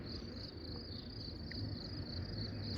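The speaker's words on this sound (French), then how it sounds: "les insectes, les grillons, tout ce que vous voulez là," Crickets chirp steadily outdoors among trees and plants, a faint, high continuous trill over a quiet low background hum.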